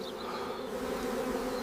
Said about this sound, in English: thousands of bees are moving around something they have spent their lives creating